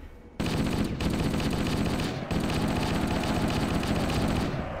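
Machine gun fire in a military shooter video game, loud rapid sustained bursts with a brief gap between them.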